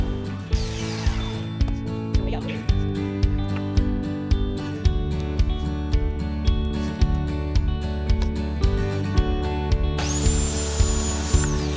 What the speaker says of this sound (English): So I need to sand all these pieces